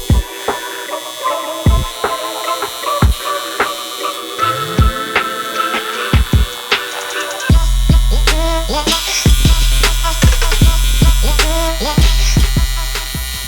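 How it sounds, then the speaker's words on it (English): Welding of steel angle braces for a tank support, heard as loud crackling and buzzing arcs in short bursts separated by pauses, then a longer steady stretch near the end, with electrical hum throughout. "So I'll weld all these bits along here now, and then that'll give me the support for the tank."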